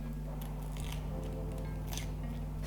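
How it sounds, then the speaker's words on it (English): Knife thinly slicing a halved, peeled onion: faint, soft, crisp cuts repeating a few times over a low, steady background hum. "cut off the tips, thinly slice up the onion, but not all the way through"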